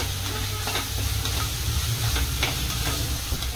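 Ginger, garlic and coriander paste sizzles and crackles loudly in hot oil while being stirred for a matar pulav. The frying hiss is close and steady throughout, with no voices.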